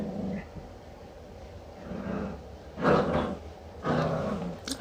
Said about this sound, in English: That's my dog. He's busy attacking his rope.